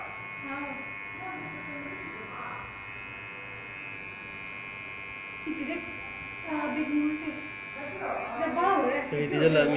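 An electric hair clipper hums steadily through a haircut training session, a constant buzz beneath ongoing conversation that grows louder toward the end.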